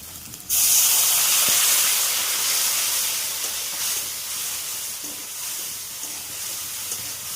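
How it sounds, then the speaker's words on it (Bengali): Water added to a pan of frying chili powder and turmeric masala for a shing fish curry bursts into a loud, steady hissing sizzle that starts abruptly and eases off gradually, with faint stirring knocks beneath. "মরিচের গুঁড়ো দিয়ে একটু জল দিয়ে নাড়া দিয়ে দেবো।"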